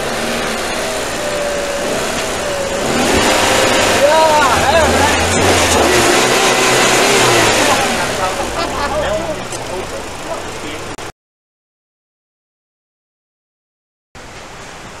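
A bus engine runs and revs up, a loud close rumble that rises in pitch and then settles back to idle, with people talking over it before a brief gap of silence.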